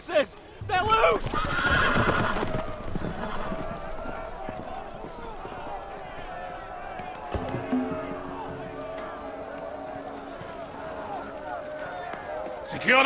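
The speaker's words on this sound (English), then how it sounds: "The horses! They're loose!" Horses neigh and run loose in a Game of Thrones Telltale video game scene, with a loud whinny at the start and hooves clattering beneath shouting voices and a crowd.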